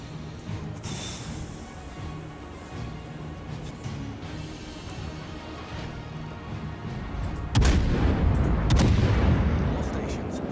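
Naval artillery fire in the World of Warships video game: a low rumbling battle backdrop with voices, then a heavy booming salvo hits loud and close near the end and rolls on afterward.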